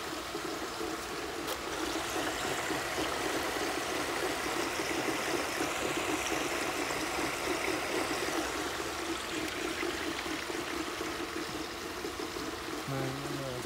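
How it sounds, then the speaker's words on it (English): Water rushes steadily from a pool sand filter being backwashed on an algae-filled pool, a continuous broadband flowing hiss that holds level throughout with no talk. "We're going to backwash the filter."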